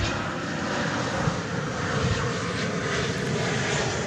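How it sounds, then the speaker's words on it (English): Lufthansa Airbus A330-300 arriving at Dallas Fort Worth from Frankfurt: a steady, fairly faint jet engine drone with a broad hiss, unbroken and voiceless throughout. "it's going to be Lufthansa Flight 438 coming in from Frankfurt, an Airbus A330-300."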